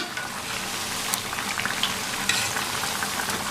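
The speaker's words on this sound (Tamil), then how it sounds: "இந்த மாதிரி பரட்டி விட்டு லைட் ப்ரௌனாக வரும்போது எடுத்துட்டோம்னா கரெக்டாக இருக்கும்" Rava bonda fry in hot oil, a steady, close crackling sizzle with light stirring sounds throughout.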